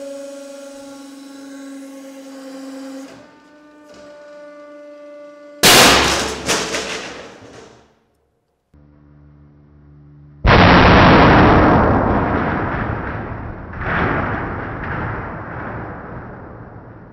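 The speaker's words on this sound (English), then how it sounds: "That was a big bang!" A 30 mm ball bearing crushed under a 100-ton hydraulic press bursts with a sudden loud bang, followed by clattering and rumbling debris, then a second sharp burst of noise that slowly decays.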